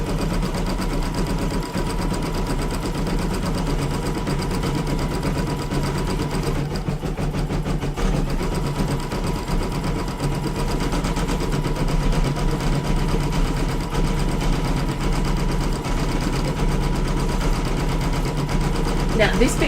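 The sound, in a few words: sewing machine stitching a lace headband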